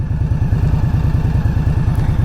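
Close up, the V-twin of an Indian Scout Bobber motorcycle of roughly 1200 cc ticks over at idle, its low, lumpy exhaust beats pulsing evenly and loudly throughout, alone.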